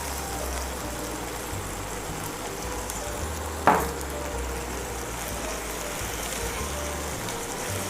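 Ground masala frying with chicken in a pan for Karaikudi-style Chettinad chicken, a steady soft sizzle throughout with one brief sharp scrape or clatter midway, no talk.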